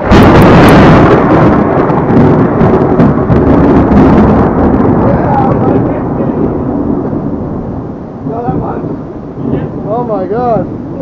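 Loud, booming thunder from a close storm rumbles heavily and shakes a house, a long rolling roar that slowly fades, with excited voices rising near the end.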